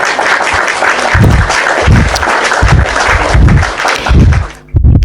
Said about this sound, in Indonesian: Tepuk tangan buat diskusi